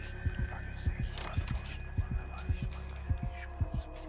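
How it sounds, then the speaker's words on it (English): A rhythmic heartbeat effect from the horror video game Baby in Yellow, with low, paired thumps repeating steadily about every half second under a faint background hum. "That's supposed to be my heart beating?"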